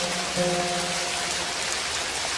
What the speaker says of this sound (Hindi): आज तो बारिश ने जम के कहर ढाया है।